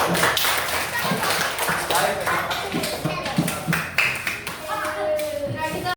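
Classroom applause from a group of schoolchildren for a student after a group presentation, a dense, steady clatter of many small hands clapping close by with children's voices mixed in throughout.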